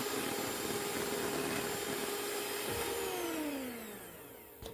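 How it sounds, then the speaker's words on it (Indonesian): An electric mixer whips 50 grams of whipping cream into a cream puff filling, giving a steady, loud motor whine that drifts in pitch and eases off toward the end, with no voices. "Kemudian di mixer lagi"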